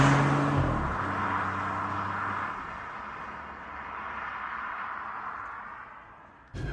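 F56 MINI Cooper 1.5 cruising on a motorway at 70 mph around 2,400 rpm, a steady broad road and wind roar with a low engine drone inside the cabin, no talking, ending in an abrupt cut.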